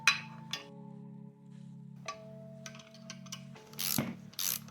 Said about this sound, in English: now we can use this pass-through ratchet set